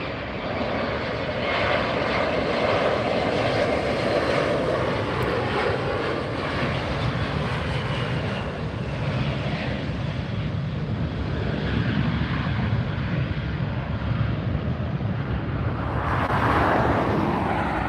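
Jet airliners roar continuously at LAX, one arriving and a Southwest flight departing for San Jose, a loud broad engine rumble that swells near the end without letup.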